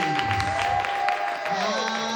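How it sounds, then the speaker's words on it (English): A church congregation claps in praise, a dense continuous patter of many hands under a sustained keyboard tone and scattered voices. "Give the Lord a hand clap of praise."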